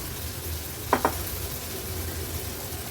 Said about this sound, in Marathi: भाजी व्यवस्थित आपल्याला मसाल्यामध्ये परतून घ्यायची आहे